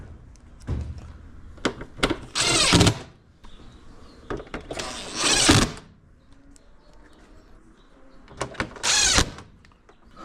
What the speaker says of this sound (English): Just screwing them in. Screwing all these screws in here.